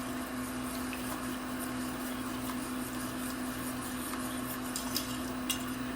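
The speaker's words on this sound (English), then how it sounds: "we will start to dissolve our roux with the shrimp base." Roux is stirred with shrimp base in a pot for smoked tomato shrimp chowder: a quiet, steady scraping swirl with faint clinks of a utensil against the pot and a constant low hum beneath.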